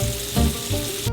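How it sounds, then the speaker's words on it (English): Steady, close sizzling and crackling of steak frying in bacon grease in a skillet, a dense hiss with small pops swelling briefly. "It'll start singing, that sizzling and popping."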